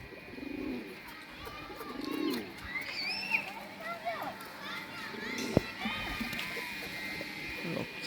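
Pigeons in a loft feeding on grain give soft, intermittent coos and bird calls, with children's voices and chatter mixed in nearby.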